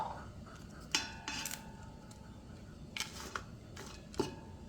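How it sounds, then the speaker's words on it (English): Grated ginger dropped into a pot while making Jamaican sorrel drink: a few soft metallic clinks and scrapes of a utensil against the pot, close and fairly quiet, with gentle stirring between them. "I'm going to go ahead and add my grated ginger."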